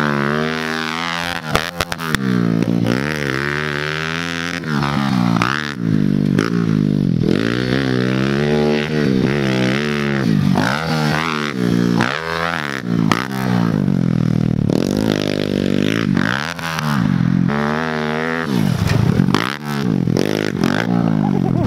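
Kawasaki KLX110 fuel-injected dirt bike fitted with a new race exhaust, riding laps on a track: a loud, continuous engine note rising and falling through repeated revs and gear changes, close to the listener for the whole stretch.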